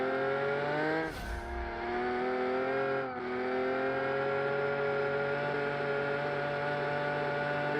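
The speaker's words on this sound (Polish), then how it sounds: "źle nie brzmi ten samochód" A V12 Aston Martin convertible in BeamNG hums at a steady rev with bright harmonic engine tones, dipping briefly twice as the throttle shifts, then holding a constant drone close up.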